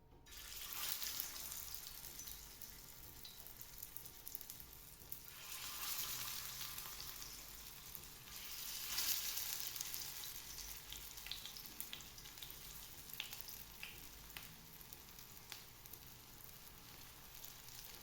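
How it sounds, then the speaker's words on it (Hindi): Quiet, steady sizzling of shami kebabs shallow frying in oil, with faint crackles and occasional soft clinks. "और बस अब इसको हम शैलो फ्राई कर लेंगे।"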